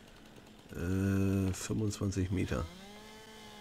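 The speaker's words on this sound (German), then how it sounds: "Dann sägen wir den doch einfach mal da weg." A chainsaw cuts through a tree trunk in the farming game Landwirtschafts-Simulator 22, giving one loud, steady buzzing burst followed by a string of shorter revving pulses, then stopping. A short spoken phrase comes before it.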